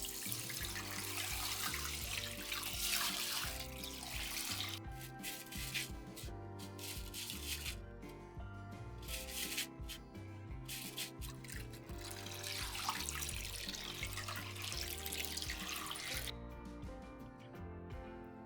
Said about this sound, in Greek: την ξεπλένεις πρώτα καλά-καλά κάτω από άφθονο νερό